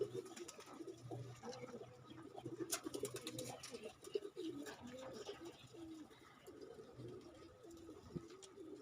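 Pigeons coo repeatedly close by while building a nest, soft low rolling calls recurring through the stretch over a faint background bustle, with no talking.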